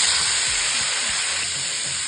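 Beetroot frying in a pan of coconut oil with mustard seeds and urad dal, a loud continuous sizzle and hiss close up throughout, with no voices.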